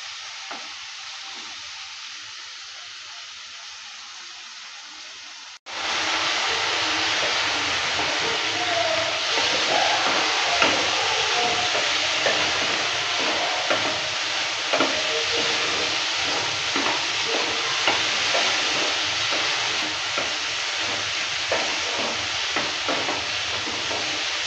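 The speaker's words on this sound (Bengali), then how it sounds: "লো মিডিয়াম আছে চিংড়ি মাছটাকে ভালো করে ভেজে নেব" Prawns frying in a pan over low-medium heat for a shrimp and taro dish, a quiet lull giving way at once to a loud, steady, dense sizzle with crackles and faint scraping throughout.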